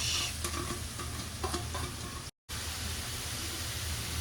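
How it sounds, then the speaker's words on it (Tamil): Chopped onions fry in oil for egg burji, giving a steady close sizzle and hiss with light stirring scrapes and one brief silent gap partway through. "இப்பொழுது எண்ணெய் ஊற்றிக்கலாம். அடுத்ததா அரிஞ்சு வச்சிருக்க வெங்காயத்தை அப்படியே உள்ள தள்ளிடலாம்"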